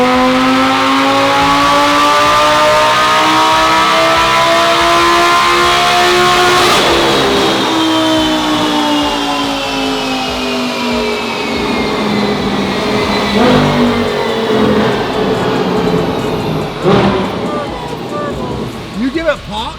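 A Lamborghini engine on a dyno, freshly fitted with a new ECU tune, revs hard and loud. It climbs in pitch through repeated sweeping pulls, with brief breaks between them, and grows rougher and more crackly toward the end.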